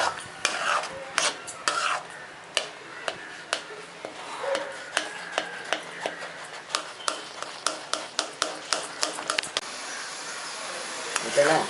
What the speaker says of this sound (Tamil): இதை எல்லாத்தையும் போட்டு நல்லா சுருளை அப்படி கிண்டிடணும்